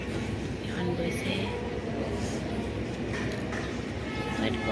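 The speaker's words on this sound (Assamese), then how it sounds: "তো বহুত লেটকৈ আহিব চাগে ট্ৰেইন, এখন গৈছে," A train passes through Lakhimpur railway station, a steady continuous rumble of rail noise heard close by, with voices and platform bustle mixed in.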